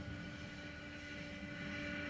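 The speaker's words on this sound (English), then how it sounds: "This aeroplane that's coming toward us" Low, steady engine drone of an airplane flying over a rail yard, a continuous hum that builds slightly as the aircraft approaches.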